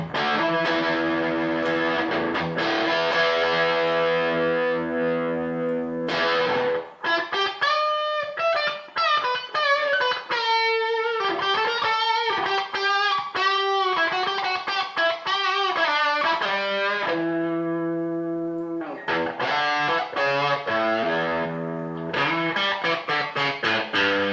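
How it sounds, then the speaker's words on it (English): Heavily distorted electric guitar played through a Boss Metal Zone distortion pedal into a tube amp, loud and saturated, with sustained chords and quick riffs that continue alone with brief pauses. "if you just want more distortion, coupled with a natural distortion from your tube amp"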